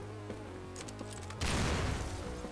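During a video game battle between factions at a base, a series of quick gunshots crackles before a grenade blast bursts into a loud, rumbling explosion that lingers to the end, with no talking.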